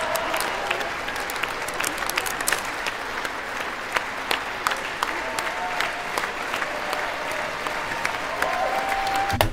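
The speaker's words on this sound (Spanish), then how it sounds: "ahí fueron muchos minutos de aplausos, ovaciones" Sustained applause and ovation from a large audience after Zelensky's speech in the United States, a dense steady roar of clapping with sharp individual claps standing out, continuing without a break for the whole stretch.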